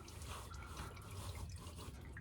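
Engine oil from a Chevy truck's 5.3 liter engine drips and trickles steadily into a drain pan during an oil change, a continuous faint liquid patter over low background rumble.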